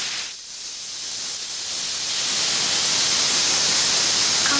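A pressure cooker venting steam in a movie scene, a loud continuous hiss that swells and holds steady, heard alone with no voices.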